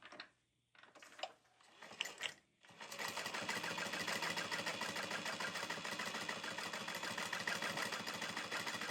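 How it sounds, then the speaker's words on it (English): A sewing machine top stitches backpack fabric along a folded edge, catching an elastic casing. After a few seconds of quiet handling clicks, a fast, steady mechanical needle rhythm starts and runs evenly to the end. "Now we can top stitch along the folded edge using an 1/8 inch seam allowance."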